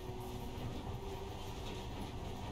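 Monorail train running in the video game Metro Last Light, a continuous low rumbling rattle of rolling carriages with a faint steady hum, even and unbroken throughout.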